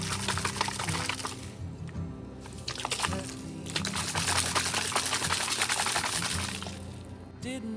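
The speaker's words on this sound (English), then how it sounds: "All right, now we'll add some water to B." Water pours into a plastic bottle of hydroponic nutrient solution in a kitchen in uneven splashing bursts with brief pauses, close and fairly quiet.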